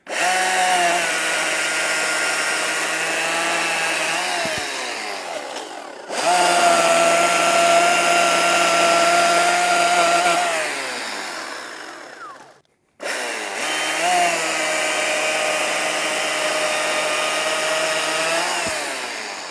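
An Ego CSX5000 battery chainsaw runs loudly and steadily while cutting through wood, droning in long stretches with two brief pauses between cuts.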